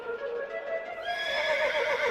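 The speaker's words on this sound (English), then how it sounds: "With his racehorse, Incitatus." A racehorse gives a loud, close whinny that rises and wavers over a couple of seconds, with a faint suggestion of hooves beneath it.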